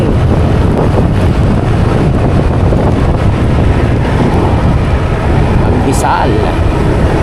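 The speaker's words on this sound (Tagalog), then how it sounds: "Lakas ng hangin." Strong wind buffets the microphone while driving on the Tagaytay bypass, a loud, constant roaring rush with gusty low rumble lasting throughout, a brief higher squeak near the end.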